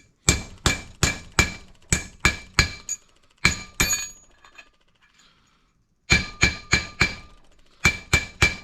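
A hammer beats a bearing race to seat it, sharp ringing metallic strikes in quick rhythmic bursts, about a dozen blows, a pause of silence, then another run of close, loud hits.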